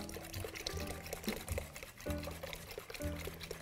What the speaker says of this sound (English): just pour it right into this mixture